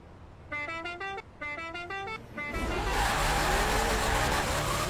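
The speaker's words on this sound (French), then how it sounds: "C'est parti, les 3 coups de klaxon sont donnés." In the Forza Horizon 4 video game, three car horn honks sound in steady rhythm to start a drag race, and a loud roar of engine and tire noise follows.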